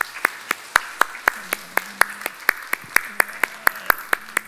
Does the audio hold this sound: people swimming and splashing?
no